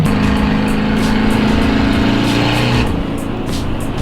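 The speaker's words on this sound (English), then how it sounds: "The car starts right back up." A car engine idling close by with a loud, steady low-pitched drone and even mechanical pulsing, the tone dropping slightly after about three seconds as the revs settle.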